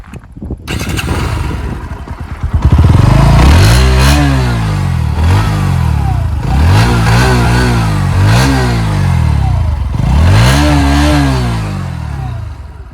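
A Bajaj NS-125 motorcycle engine fires up and is revved hard several times in a row, each throttle blip rising and falling over a steady idle, loud and close with no talking.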